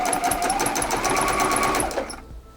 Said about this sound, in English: Back at the machine here, I'm just going to get these under my presser foot and join them all the way down